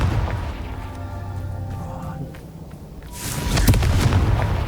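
The Confringo spell blasts in Hogwarts Legacy, a muffled rumble building into a loud, bright explosive burst with crackling debris in the second half.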